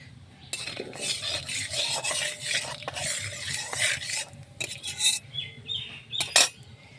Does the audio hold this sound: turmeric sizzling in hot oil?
yes